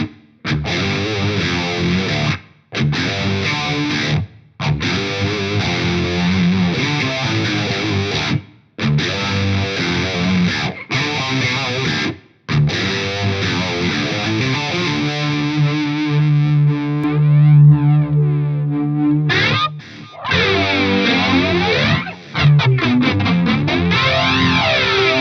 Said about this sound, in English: Let me put on like just whatever, fixed harmony down an octave.